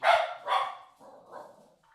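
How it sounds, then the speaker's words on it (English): A dog barks indoors several times in quick succession, two loud close barks followed by softer, shorter yips trailing off, heard alone without talk. "Sorry about the dog, Nova."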